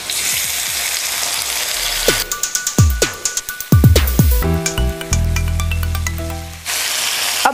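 Tomatoes and garlic fry in a pan for chutney with a loud, constant sizzle, interrupted by a run of rhythmic metallic scrapes and knocks as the mix is stirred, before the plain hiss returns.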